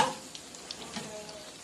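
Rice-flour-coated potato smiles fry in hot oil with a soft, steady sizzle and a few faint bubbling pops, quiet and close, with no talking.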